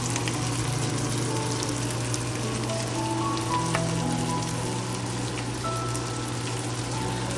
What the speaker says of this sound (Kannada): ಬಟ್ ಹಾಗೆ ತವಾ ಫ್ರೈ ಮಾಡ್ಕೊತಾ ಇದ್ದೀನಿ.